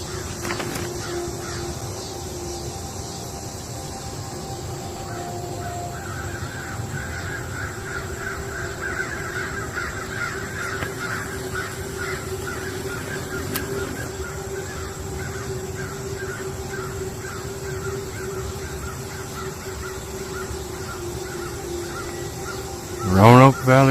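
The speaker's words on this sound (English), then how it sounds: "Hear the crows in the background." Crows caw repeatedly in the distance in Roanoke Valley, Virginia, over a steady background drone, their harsh calls recurring throughout, with a louder burst of sound at the very end.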